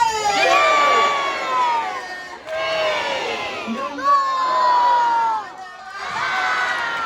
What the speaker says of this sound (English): Give yourselves a cheer.